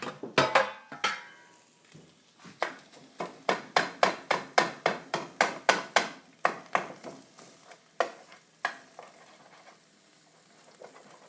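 A bench scraper breaks up homemade sausage in a pan for cencioni, with a run of about twenty sharp, rhythmic scraping strikes that thin out and fade toward the end.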